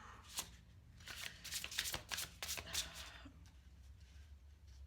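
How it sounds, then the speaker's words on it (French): Tarot cards are shuffled in quick riffling bursts that build and then fade, close and fairly quiet against a faint room hum. "Je vais quand même tirer une autre carte de tarot pour vous."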